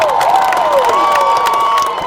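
A high school football crowd at a Nevada stadium cheers loudly and continuously after a game-tying extra point kick, a dense roar with shouts and whistles on top, steady throughout.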